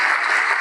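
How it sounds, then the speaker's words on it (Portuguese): A church congregation applauding, a dense, loud, even wash of many hands clapping close by with no gaps or talk. "Vamos aplaudir mais, está chegando mais."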